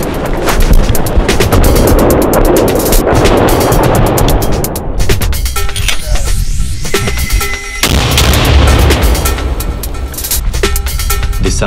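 Mortar fire at a front line in the forests of the Donetsk region at night, loud booming launches and blasts over a heavy, continuous rumbling din, close and overwhelming with no talk.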